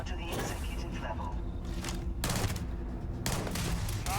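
Gunfire in the video game Starfield, sustained bursts of rapid shots forming dense loud fusillades, with speech running underneath.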